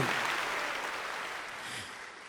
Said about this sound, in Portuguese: Dê uma salva de palmas para esse Deus